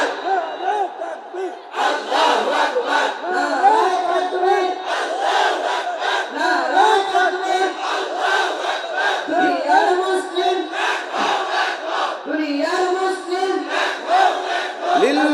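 A large crowd at a religious gathering chants a slogan together, loud and sustained, with rhythmic bursts of massed voices in unison and no pauses across the whole stretch.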